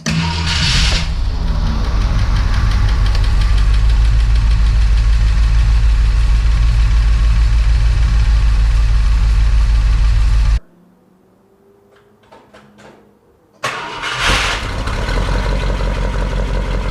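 Engine of a 1966 Ford Thunderbird barn find running at a loud, steady idle with a deep rumble close by, then cutting off abruptly before restarting and settling back into a loud idle.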